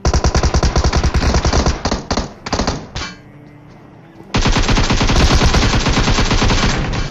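Rapid automatic gunfire in a battle royale video game fight inside a container at a military base, loud sustained bursts broken by a brief quieter pause before the shooting resumes.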